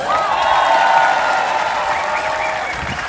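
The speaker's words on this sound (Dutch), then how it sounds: "Applaus." A large crowd applauds at the TeamNL homecoming celebration, loud continuous clapping that fades slightly toward the end, mixed with cheering and a few whistles.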